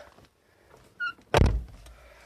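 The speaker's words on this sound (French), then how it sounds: "On va fermer la porte." A Rover car door swings shut with one solid, close thunk and a brief rattle, preceded by a faint click of the latch mechanism; no one speaks over it.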